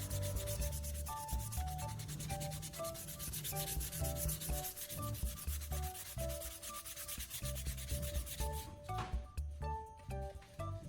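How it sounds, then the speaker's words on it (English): Sandpaper of 400 grit rubbing steadily over the outside of a PVC pipe, a continuous scratchy sanding sound that holds throughout, with a tonal, melodic layer running alongside it. "I'll use it to sand the outside surface of the PVC pipe where the sandpaper will be attached."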